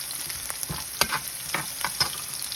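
Spaghetti with mussels and basil stir-frying in a hot pan, a steady sizzle broken by repeated scraping and tossing strokes from a utensil, close and fairly loud, with no talking.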